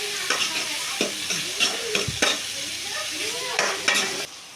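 Onions sizzling in a pan of oil for a soya chunks gravy while a spoon stirs them, giving a steady close fry with a run of rhythmic scraping strokes about once a second.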